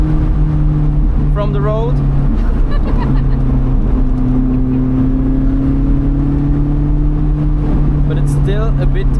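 A 2020 Lotus Elise Cup 250 sports car drives along a wet spring road, its engine droning steadily with gently rising pitch from inside the cabin, while someone talks briefly over the continuous road and engine noise.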